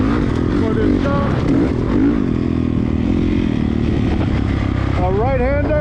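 A dirt bike engine revs and surges as the rider sets up for a jump on a motocross-style track, loud and close from the rider's position, with someone talking over the motor throughout.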